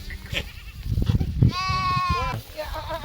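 Goats in a village flock bleat outdoors, one drawn-out, wavering bleat standing out clearly over rustling and low murmurs of people nearby.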